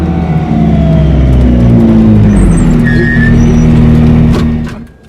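A McLaren P1 GTR race car drifts nearby, its engine a loud, sustained roar with shifting pitch and tyre noise for about four and a half seconds before dropping away at the end.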